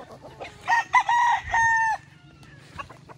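A young rooster among feeding chickens lets out one close, rough crow, with faint clucks and scratching around it.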